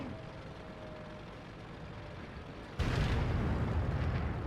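Artillery shells burst in a World of Tanks battle, a sudden loud explosion cutting in partway through and leaving a heavy roaring wash over the continuous low drone of tank engines.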